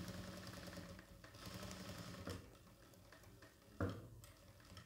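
A Jack F4 power sewing machine runs in short bursts as its needle is lowered onto marks, giving a steady mechanical ticking hum, close and moderately loud, with a sharper knock near the end and no talking.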